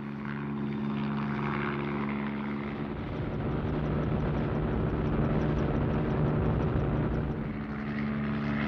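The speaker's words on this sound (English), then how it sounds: "Helicopters from an aircraft carrier can act as a mobile defensive screen all around the convoy." Helicopters operating from an aircraft carrier fly over the sea around a convoy, a steady loud rotor and engine drone holding throughout with no talk.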